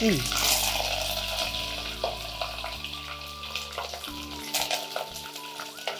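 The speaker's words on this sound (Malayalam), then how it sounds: "ഇനി പച്ചമുളകും പൊട്ടാൻ ചാൻസ് ഉള്ള സംഭവമാണ് ശ്രദ്ധിച്ചിടണം അല്ലേ നല്ല നല്ലൊരു എണ്ണ തേർത്തെറിക്കുന്നുണ്ട്" Green chillies fry in hot oil for an Onam sadya olan, with bursts of sizzle and sharp spattering pops over a low steady hum and clinks of a utensil, loud at first and then easing.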